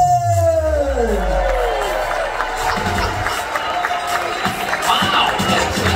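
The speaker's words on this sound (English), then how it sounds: "A huge round of applause" A Royal Caribbean Navigator of the Seas audience cheers and claps as a ventriloquist takes the stage, with a rising whoop from the crowd at first, then a steady mix of applause and excited crowd noise.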